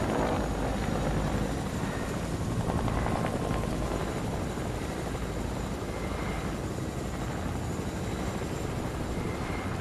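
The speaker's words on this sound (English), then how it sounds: "Buck and Bordeaux, the two most dangerous people to drive in a fucking chopper." A Fortnite helicopter's loud, constant rotor thrum and engine roar fill the whole stretch, steady and close, with no talking.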